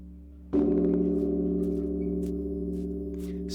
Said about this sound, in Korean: 만물을 깨우는 범종 소리